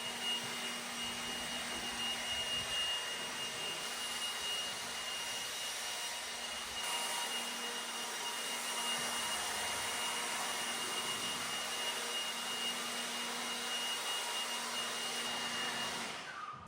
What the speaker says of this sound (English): It is nice to have the leaf blower so you can blow all the water out up against the edges